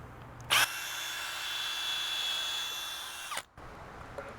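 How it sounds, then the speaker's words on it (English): A power drill whirs steadily for about three seconds, pre-drilling into wood for a raised garden bed, with a short burst at the start and a wind-down at the end. "You want to pre-drill, otherwise your wood is more likely to crack"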